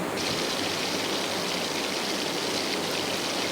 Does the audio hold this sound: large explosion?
no